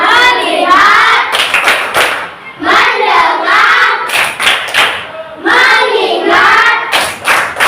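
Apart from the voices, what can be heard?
group rhythmic clapping chant (tepuk fokus)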